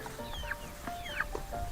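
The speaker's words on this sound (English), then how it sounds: "Duck was running over one of the chickens." Chickens and ducks in a commotion give several short squawks and clucks, with scuffling and pattering between the calls, close but fairly quiet.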